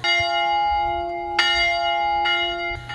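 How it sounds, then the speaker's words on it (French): A church bell rings out at a church inauguration ceremony, a sustained bright metallic tone with fresh strikes roughly every second and a half, loud and resonant, no talking. "La cloche a ainsi sonné"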